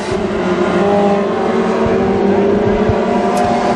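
WISSOTA Mod Four race cars roar around the Ogilvie Raceway dirt track in a feature race. Loud, overlapping engines drone and rev steadily, and the sound stays close and continuous throughout.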